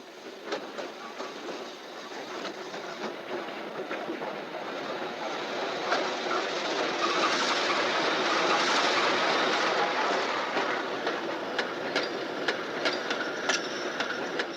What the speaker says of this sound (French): le train bleu, le fameux tramway de Neuville, a repris ses rotations sans avoir trop souffert.